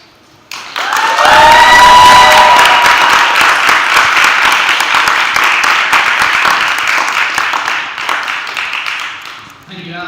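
Audience applause and cheering after a student presidential debate speech, starting abruptly with a few whoops and settling into sustained, loud clapping from a crowd before fading near the end.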